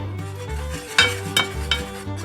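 Flour is stirred into melted butter for a roux in a pan, giving a steady scraping swirl with a few light spoon knocks against the pan and a faint sizzle, close with no talk.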